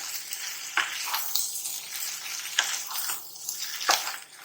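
Boiled potatoes are mixed with fresh green coriander in a cooking pan for Navratri fasting aloo, with a soft sizzle and a few distinct scraping strokes of the spoon at intervals and no talking.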